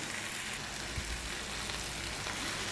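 Chopped tomatoes drop into a hot frying pan for chickpea curry, giving a steady, even sizzle that runs throughout with a faint soft thud near the start.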